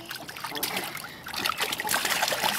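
Water splashes and trickles in close, busy bursts as a young boy swims and gets water in his face, growing louder toward the end.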